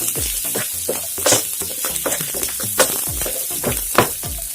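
Garlic and ginger sizzle in a frying pan for prawn masala, a loud close crackling hiss punctuated by repeated sharp spatula clacks and stirring scrapes.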